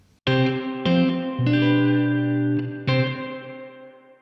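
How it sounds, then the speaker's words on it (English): Medium reverb on a music mix: a sequence of distorted, effect-laden guitar-like chords rings out, each struck note sustaining into a moderate tail that overlaps the next, with no talking. "a medium reverb,"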